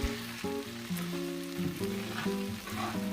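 Minced scallions sizzle in hot oil alongside chicken thighs, a steady soft frying crackle running under prominent melodic background music.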